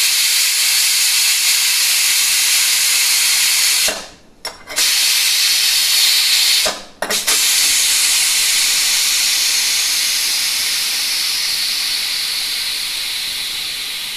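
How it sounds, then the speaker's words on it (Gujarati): Steam hisses loudly and steadily from a pressure cooker's valve as pressure is let out after cooking a pea and potato curry, cutting off sharply twice before carrying on and slowly easing. "તો મિત્રો આવી રીતે પ્રેશરને હવે આપણે કાઢી લેશું."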